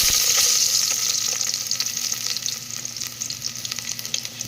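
Garlic fries in hot oil with a loud, dense sizzle that eases slightly, speckled with small crackles and pops, no talk.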